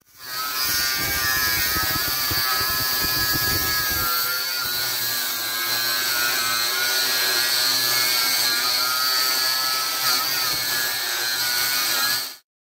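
A high, whining power saw runs continuously and grinds through cast iron drain pipe in a cellar, loud and close, with a rougher buzz early on before it smooths out, then stops.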